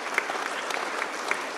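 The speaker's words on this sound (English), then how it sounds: "can everyone give a big round of applause" An audience at a disability-inclusion technology event gives a round of applause, a steady, moderately loud wash of clapping throughout with a few sharper claps standing out.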